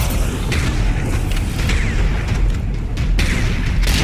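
C4 detonation in the video game Serious Sam 4, a heavy, continuous booming roar that stays loud and dense for the whole span, with brief bursts layered on top.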